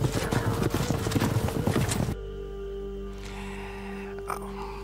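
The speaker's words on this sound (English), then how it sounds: "And then we heard the hooves." Horse hooves clip-clop in a steady rhythm, fairly loud and busy for the first two seconds before cutting to a quieter, humming background.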